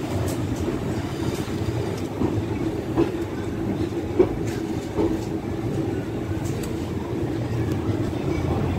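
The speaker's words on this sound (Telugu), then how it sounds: "మన ట్రైన్ ప్లాట్ఫామ్ నెంబర్ 3 మీదకి వచ్చింది" Train No. 20967 from Secunderabad rolls into Ahmedabad Junction's platform 3, heard from inside as a continuous heavy rumble with rhythmic wheel clatter and faint background voices.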